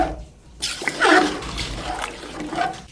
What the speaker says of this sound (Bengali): এখন আমি এর মধ্যে পরিমাণ মতো পানি দিয়ে দিচ্ছি